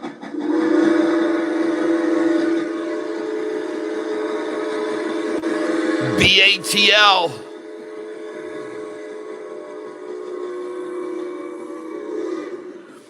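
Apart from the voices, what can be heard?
train passing with whistle blowing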